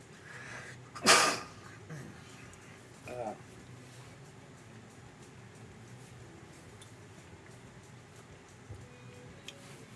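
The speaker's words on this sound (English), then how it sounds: "when you sneeze when you're in the middle trying to chew" A single loud sneeze bursts out early while a person is chewing food, followed by a smaller sound of breath and chewing against quiet room background.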